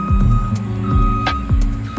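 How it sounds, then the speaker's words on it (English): A vehicle's backup beeper sounds in a steady series of loud, closely spaced electronic beeps, heard nearby along with a running engine and no talking. "Minus the backup beeper."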